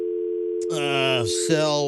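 A telephone dial tone, a steady electronic hum that gives way to tones as a number is dialed, with a voice speaking over it.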